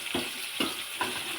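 Onion frying in hot oil for a chicken recipe, soft sizzling with three brief stirring bursts in a steady rhythm, close and fairly quiet, with no voices.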